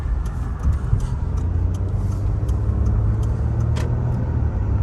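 Ford Escape with a repaired four-gear transmission driving along, a steady low engine and road drone heard from inside the cabin with faint clicks and rattles, no speech.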